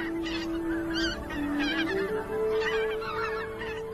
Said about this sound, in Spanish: Cuando llegan las bandadas de gansos